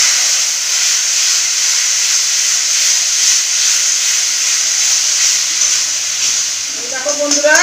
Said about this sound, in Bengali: এবারে দিয়ে দিব সিল ধোয়া জল।